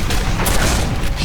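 A shotgun fires in the shooter game Quake IV, one loud burst with a booming, noisy blast filling the brief moment up close.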